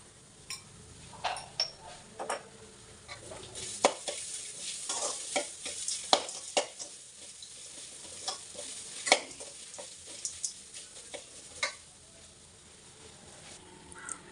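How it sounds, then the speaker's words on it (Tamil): Coconut rice ingredients stirred and sautéed in a pan over a medium flame give a soft steady sizzle, broken by irregular sharp clicks and scrapes of a spoon against the pan, with no talking. "மீடியம் ஃப்ளேமில் வச்சுட்டு அப்படியே நல்லா வதக்கணும்"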